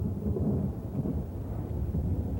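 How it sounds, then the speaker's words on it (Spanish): A thunderstorm over St. Peter's brings a continuous low, rumbling roll of thunder with a rain-like wash, steady and moderately distant throughout. "Nubes de tormenta se arremolinan sobre San Pedro."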